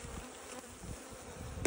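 Honeybees hum in a dense, steady drone around an open beehive, heard close but fairly quiet with a faint knock near the end and no talking.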